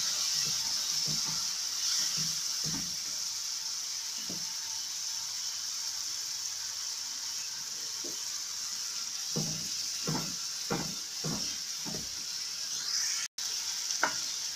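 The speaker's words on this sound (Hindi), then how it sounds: "इसके बाद मैं इसमें जिंजर गार्लिक का पेस्ट डालूंगी। अब हम इसको भून लेंगे थोड़ा।" Ginger garlic paste frying in a pan for a beef paya curry, a steady sizzle running throughout, with occasional spoon scrapes and stirs, louder in a cluster near the end.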